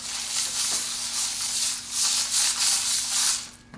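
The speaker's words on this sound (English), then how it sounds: "So I sand it on one side." Sandpaper rubbing back and forth across one side of a plexiglass printmaking plate, a steady scratchy hiss in repeated strokes, close and fairly loud with no talking.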